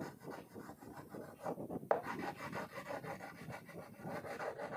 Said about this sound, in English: First, we will use an orange crayon. See children, I'm coloring in the same direction.